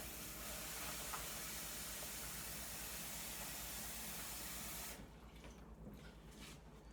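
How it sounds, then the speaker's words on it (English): Tap water runs over broken matzah pieces in a kitchen, a steady close hiss and splash for about five seconds before the flow cuts off and leaves faint quieter room sound. "Then I'm going to run some water over it."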